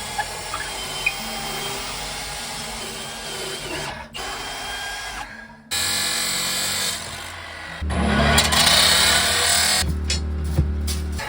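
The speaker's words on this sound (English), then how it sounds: "I'll do a full drill through here" A power drill whirs through the wood of an off-grid cabin in several bursts, stopping and restarting with changing pitch and loudness, close by and without talk.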